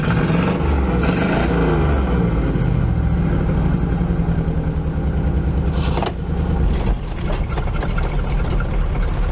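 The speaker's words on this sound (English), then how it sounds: "idling a little weak" An old Chevrolet K5 truck engine idles loudly and close, a rough, low rumble with uneven knocking that stays steady throughout, idling a little weak.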